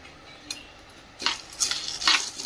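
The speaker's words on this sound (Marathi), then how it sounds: "तूप टाकलेलं आहे 2 चमचे आणि त्यामध्ये ह्या 200 ग्रॅम डाळ्या त्या पण आपण भाजून घेऊया।" Chana dal roasting in two spoons of ghee in a pan, with spatula stirring that starts quiet and turns into louder scraping, rattling strokes in the second half, alone without talk.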